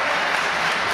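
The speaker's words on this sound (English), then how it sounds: "listen to the crowd pop for the original player from the Himalayas" A wrestling crowd at an independent wrestling event roars steadily for Sanjay Dutt, a dense, continuous wall of cheering and applause with no single voice standing out.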